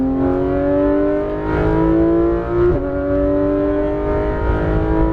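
A Porsche GT3 RS 991 engine pulls hard under throttle on a race track, a loud, close, sustained rising howl with a brief dip mid-clip before climbing again.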